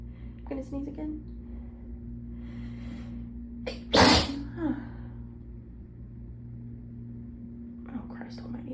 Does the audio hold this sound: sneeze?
yes